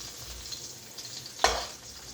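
Onion sizzles in a hot pan for pancit bihon with chicken, with a soft steady frying hiss and one sharp burst of sizzle as it is stirred.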